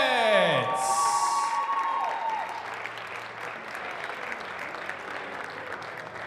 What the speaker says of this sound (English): Ladies and gentlemen, a big round of applause.